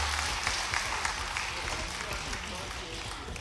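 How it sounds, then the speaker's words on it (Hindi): A crowd claps together at a political interactive session on investment, a broad steady roar of applause with a voice talking over it. "ताली भी बजे तो ऐसी बजे, 2-4 बहन जी थोड़ी बजा, सभी बजाओ तो आनंद आएगा।"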